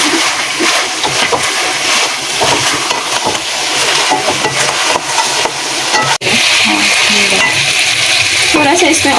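Mutton pieces frying in an oiled pan for karahi, a loud, continuous sizzle and spatter with stirring scrapes, briefly cutting out for a moment midway.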